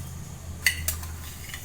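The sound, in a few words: spoon adding sugar into a dish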